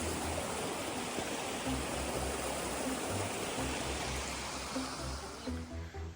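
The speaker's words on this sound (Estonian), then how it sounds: "Päris muljet avaldav kogus vett tuleb siit midagi." Loud, steady rush of a mountain stream on a hiking trail in Madeira, continuous broadband water flow with low churning beneath, filling the whole scene without voices.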